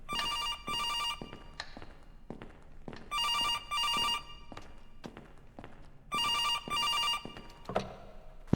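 A phone ringing in the video game Phil In The Mirror, repeating in paired electronic bursts of trilling rings three times over, loud and close, with soft thuds and taps between the rings.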